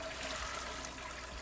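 A toilet flushes in The Sims 4, heard as a quiet, steady watery rush and trickle with faint low thumps, sounding distant and soft with no talk over it.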